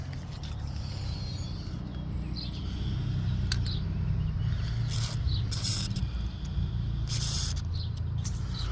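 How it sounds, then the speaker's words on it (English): An aerosol can of WD-40 sprays onto bolts on a 1998-2002 Honda Accord LX in short hissing bursts, a few quick squirts then longer blasts, close up over a low steady hum. "I like to spray them down with some WD-40"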